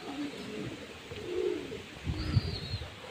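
Young pigeons in a rooftop loft coo in low, rolling calls, with one brief higher chirp near the end, over light background noise.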